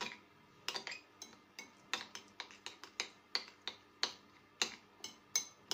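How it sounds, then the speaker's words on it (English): Vegetables for a vegetarian egg sandwich filling are stirred into beaten egg in a bowl, giving a quick run of sharp clinks and taps from the utensil against the bowl, close by and fairly quiet. "adding all the veg, like so. Stir thoroughly."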